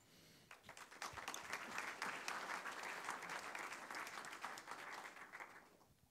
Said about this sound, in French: Panel que j'invite à me rejoindre dès maintenant et que vous pouvez applaudir